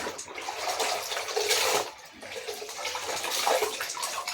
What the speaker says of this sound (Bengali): একটা করে ধুচ্ছি একটা করে চিপছি